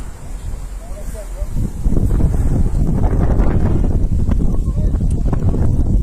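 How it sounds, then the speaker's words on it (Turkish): Strong wind buffets the microphone in loud, steady gusts that grow heavier partway through, with a voice talking faintly beneath the roar, during a wildfire in İskenderun. "Rüzgar ha. yön değiştirdi. Şimdi bize doğru esiyor."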